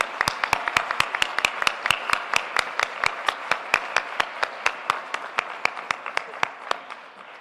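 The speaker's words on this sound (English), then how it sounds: "Please help me give a warm round of applause for our fantastic Teacher of the Year, Ms. Williams." An audience applauds at a high school graduation ceremony for the Teacher of the Year, with steady, sharp claps repeating evenly throughout, fairly close and loud, with no voices over them.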